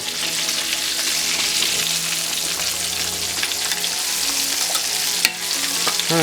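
Buttermilk pork chops fry in an inch of hot oil, giving a steady, close, crackling sizzle that holds evenly throughout with no talking.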